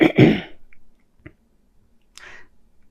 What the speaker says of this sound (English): I'm having to clear my throat